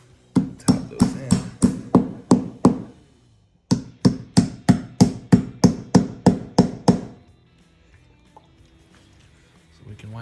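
A hammer taps plus nuts into a truck camper during a jack installation: two sharp, rhythmic bursts of close knocks, about seven and then about a dozen, separated by a short pause and followed by near silence.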